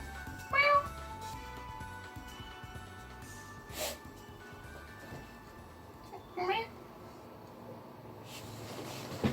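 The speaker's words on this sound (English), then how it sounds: "This is my cat, by the way." A pet cat meows in an indoor bedroom, two or three short, fairly close meows spread out with quiet pauses between them, over a faint steady room hum.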